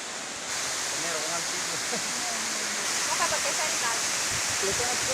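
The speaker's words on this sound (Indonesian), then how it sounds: "Inilah dia air terjun Pamalu Lua di Kecamatan Rembia" Rumbia waterfall in Jeneponto, Indonesia, roars as a continuous broadband rush of falling water, steady and enveloping, with faint chatter and bird-like chirps scattered through it.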